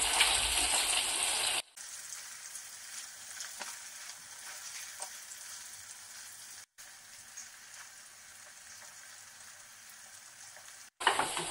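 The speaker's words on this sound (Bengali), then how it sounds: "পনিরগুলো হালকা ভেজে নেব" Paneer cubes frying lightly in hot oil for a vegetarian masala paneer dish, giving a steady close sizzle that fills the clip, with a brief loud burst of spatter at the start and end.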